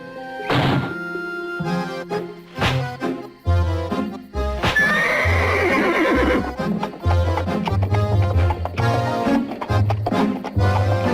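A horse from an animated Disney feature whinnies loudly and its hooves clip-clop and thump steadily, mixed with a dense, busy orchestral-style soundtrack throughout.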